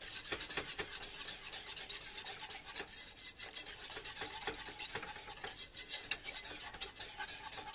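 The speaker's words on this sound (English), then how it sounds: "Stir everything up." A spoon stirs BBQ sauce with crushed red pepper in a pot, giving close, continuous scraping and rubbing strokes with uneven rhythm and faint clinks against the metal.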